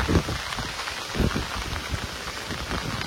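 Rain falls on a surface in a dense, steady patter with a few louder splashes, close and continuous, no voices.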